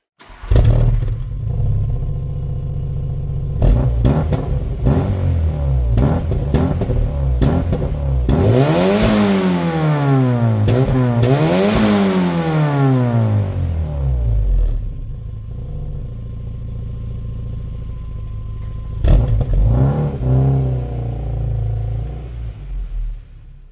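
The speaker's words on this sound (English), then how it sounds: "a little bit of the exhaust sound of the GTI" A Volkswagen Golf GTI exhaust rumbles at idle, then revs up sharply twice in quick succession before settling back to a steady burble, close and loud.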